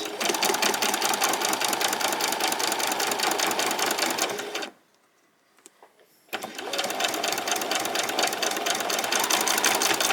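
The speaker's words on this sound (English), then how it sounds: "I'm just going to do some back stitches. And I'm going to go right to the end." Sewing machine back-stitching a beach bag seam, a loud, fast steady whir that stops for about a second and a half with faint handling noises, then resumes at the same pace.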